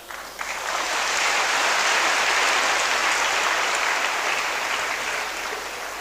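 A church congregation clapping together, a dense, sustained burst of many hands rising quickly to full volume, then holding steady and easing slightly toward the end, no voices over it.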